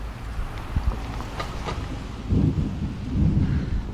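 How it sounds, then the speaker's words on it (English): Thunder rumbles through a rain-soaked outdoor movie set as a storm rolls in, with low booming swells building over steady rain and wind noise, loudest toward the end. "You can hear the thunder and lightning, and it's starting to rain."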